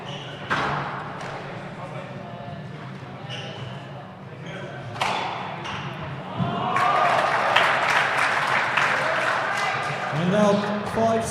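Spectators at a squash club in Namibia break into clapping and cheers after a point, swelling in the later part of the clip, following earlier sharp ball thuds off the court walls, with a commentator talking throughout.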